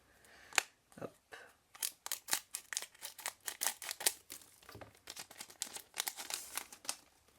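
Rapid, crisp scissor snips cut through a stiff Korean trading card pack, a steady run of close crunchy clips with brief pauses between.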